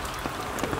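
Rain falls steadily on a garden in wet weather, a soft, even patter with a few slightly sharper drops standing out, close and moderately loud with no voices.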